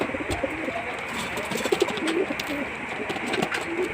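Pet pigeons in a backyard loft coo softly at close range, with several low throaty calls repeating over a constant background hiss.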